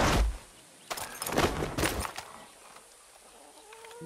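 Chickens clucking in the video game Far Cry 6, a few short bursts of clucking and flapping near the start, then quieter ambient game sounds.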